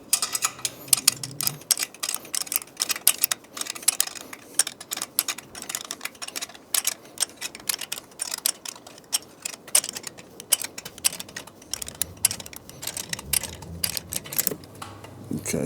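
A ratchet wrench turning exhaust header bolts on a 2024 Triumph motorcycle, delivering rapid uneven bursts of metallic clicking close up, with brief pauses between strokes.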